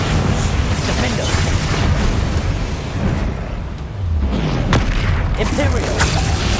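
Explosive spells in Hogwarts Legacy, the combat magic of Incendio, Confringo and Bombarda, go off as loud, continuous booming blasts and fiery bursts, one after another, with a brief lull in the middle before the barrage resumes.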